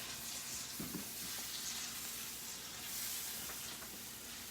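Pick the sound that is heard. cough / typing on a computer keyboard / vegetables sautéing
vegetables sautéing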